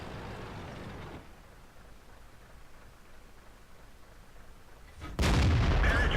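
A tank cannon fires in a World of Tanks-style battle with a T-34-85 and IS-2, one sudden loud blast near the end after a stretch of quieter rumbling ambience.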